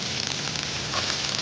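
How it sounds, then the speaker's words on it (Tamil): Finely chopped ginger sautéing in a pan for chilli mushroom masala, a steady soft hiss and crackle throughout, fairly quiet and close with no voices. "ஃபைனலி சாப் ஜிஞ்சரை வதக்கிட்டு"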